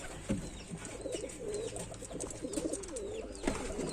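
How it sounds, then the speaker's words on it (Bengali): Jorcha pigeons, males and females, coo in breeding cages during hot weather. Low, throaty warbling coos from several birds overlap continuously at close range, with a few soft thumps and no talking. "অনেক সুন্দর কোয়ালিটি জর্চা পায়রাটা"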